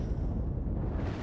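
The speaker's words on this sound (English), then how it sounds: "It's even got these cannons in the bottom." Dense, rumbling explosions and cannon blasts from warships battling in the space game Cosmoteer. The roar is constant and low-heavy, and no speech is heard.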